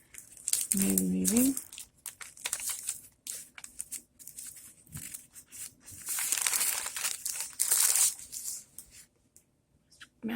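Mulberry paper crinkles and rustles close by in several bursts, with a brief word spoken early and quiet handling sounds between.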